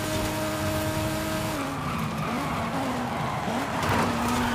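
Race cars in Forza Horizon 5 skid and squeal with engines whining, a loud continuous mix of tire screech and motor pitch shifting as the cars collide and slide.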